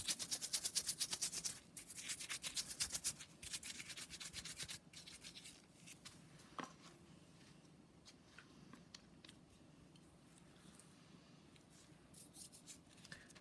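A cloth rubs quickly back and forth across a surface to wipe away sanding dust before a top coat, brisk scratchy strokes at first that then slow into quieter, scattered wipes.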